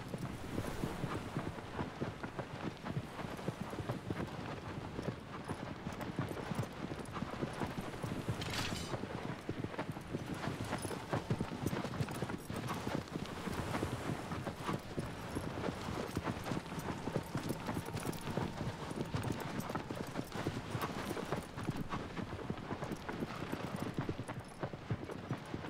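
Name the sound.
horse hooves clip-clopping in the video game Shadow of the Colossus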